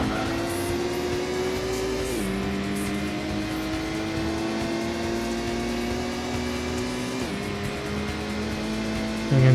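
Race car engine in the PS1 game Gran Turismo, a continuous droning whine that holds one pitch, drops with two gear shifts and climbs again, steady and unbroken throughout with no voices.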